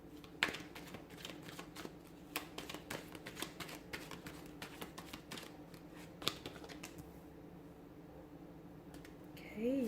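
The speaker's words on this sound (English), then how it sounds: "So we'll give the cards a shuffle" Tarot cards are shuffled by hand in a steady run of soft, papery riffles and flicks, close and fairly quiet, with a faint low background hum beneath.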